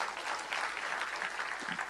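Audience applause at a Tamil public event honouring artists, a dense steady wash of many hands clapping throughout, moderately distant with no voices standing out.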